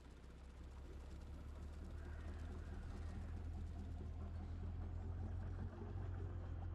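A boat engine in a video game runs as a steady low droning hum with a constant rumble underneath, continuous and unbroken, heard alone without talk.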